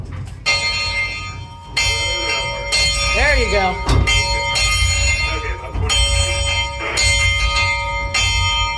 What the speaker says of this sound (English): Do you want to give the bell a go?